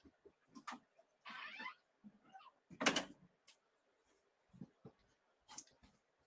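A studio door is handled and shut: scattered soft knocks and scrapes, a brief sliding rush, then one solid thud of the door closing, followed by quieter clicks and taps, close by and without speech.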